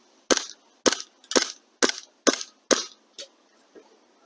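A PO8 Luger airsoft pistol fires seven sharp, close cracks at a steady rhythm roughly half a second apart, the last shots fainter, with no voices between them.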